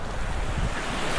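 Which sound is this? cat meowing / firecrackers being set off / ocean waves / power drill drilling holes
ocean waves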